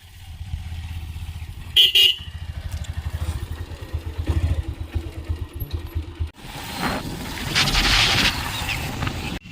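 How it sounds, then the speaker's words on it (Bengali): A motorcycle rides along a road toward Egra, its engine drone pulsing steadily up close, with a brief horn toot early on and louder rushing wind and road noise in the later part. "এই বাইকটা রেখে মামার বাইক নিয়ে যাব এগরা"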